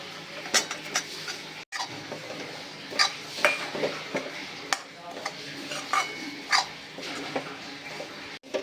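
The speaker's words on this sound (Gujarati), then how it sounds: "ગોળને કોપરાના છીણ સાથે મિક્સ કરી દેવાનો છે બરાબર" Jaggery and grated coconut are mixed in a pan, with steady scraping and sharp metallic clinks of a spoon against the pan repeating irregularly, close and moderately loud.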